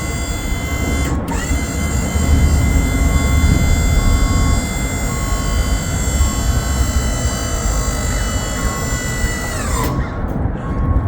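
A hydraulic lift kit raises a dump trailer body with a steady, loud mechanical whine and hum that holds for about ten seconds, then drops in pitch near the end as it stops.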